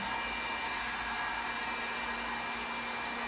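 A hair dryer blows hot air over fresh paint on a handmade decorative riser, a steady, close whir with a constant hum that runs unbroken throughout.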